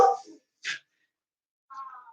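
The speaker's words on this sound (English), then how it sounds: "Dog's barking at everything." A dog gives a few short, separate barks and yips with quiet gaps between them, fairly near but not loud, with no talk.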